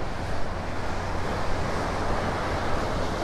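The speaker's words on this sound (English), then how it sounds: "Lots of serotonin in the air with these little waves rolling over the sandbar." Small ocean waves roll over a sandbar at a beach, a steady wash of surf with some wind rumble, continuous and moderately loud with no voices.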